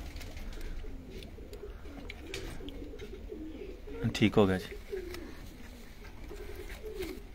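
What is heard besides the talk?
red-eyed pigeons cooing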